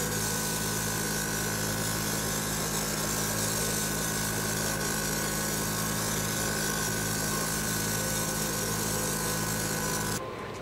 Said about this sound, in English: You guys can hear that it's coming out.